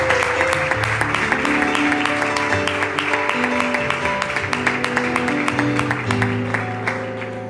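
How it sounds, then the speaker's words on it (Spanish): A church congregation claps in a steady rhythmic beat, loud and sustained, accompanied by music with held tones. "Podemos dar un aplauso a Jesús."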